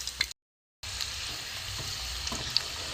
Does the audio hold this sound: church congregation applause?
no